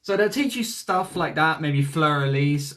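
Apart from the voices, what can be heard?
No distinct noise like a dog, phone or traffic.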